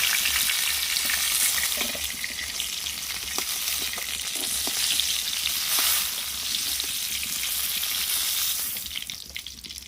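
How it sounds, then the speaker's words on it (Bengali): Pieces of pointed gourd (potol) frying in hot oil in a pan, a loud, steady sizzle with occasional clinks and scrapes of stirring throughout. "নেড়ে নেড়ে পটলটাকে একটু লাল লাল করে ভেজে নিতে হবে"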